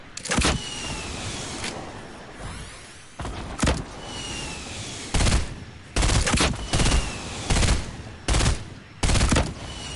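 Bursts of gunfire in a shooter game come in sharp loud volleys, several rapid automatic strings spaced across the stretch with quieter gaps between them and no talk over the shots.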